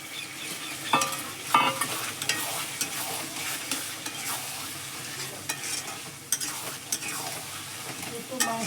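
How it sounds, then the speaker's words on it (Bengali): Boiled meat tipped into a pan of cooked spice paste for a Sunday meat curry, giving a steady close sizzle with scraping stirs and a few sharp utensil knocks against the pan, no talk. "এবারে আমি ওই জল থেকে ছেঁকে রেখেছি ওই মাংসটা দিয়ে দেবো।"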